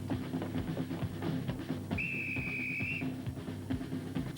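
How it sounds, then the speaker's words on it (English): Whistle blown in a Square One TV episode, one clear sustained tone lasting about a second over a busy background of voices and noise. "really wanted to blow that whistle"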